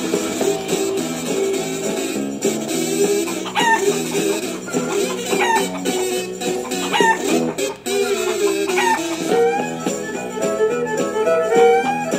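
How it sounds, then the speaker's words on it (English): Chickens cluck and squawk in a busy, overlapping chorus with occasional crowing, close and lively throughout. "16 chickens and a tambourine"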